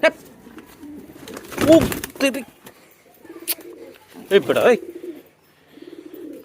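Bombay pigeons coo in repeated low throaty bursts close by while being given food and water, with brief voices and rustling between the calls.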